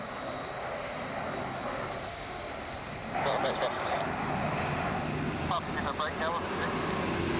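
Airbus A400 military transport powered by four Europrop TP400 C6 turboprop engines, producing a steady broad engine roar that swells louder midway, with faint talk underneath.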